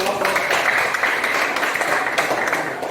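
A class audience applauds group 2 after their presentation, a dense, continuous patter of many hands at fairly close range with no distinct individual claps.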